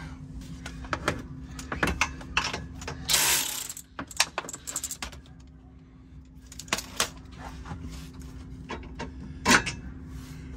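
Ratchet wrench working 14 mm bolts on a Subaru Forester Wilderness sway bar end link, a series of quick clicking bursts with metallic clanks and a steady low hum underneath, fairly close.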